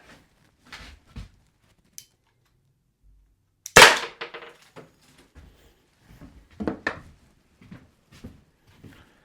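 Byrna launcher firing a single sharp shot during a penetration test, a loud close crack followed by faint handling clatter and short bursts of quiet talk.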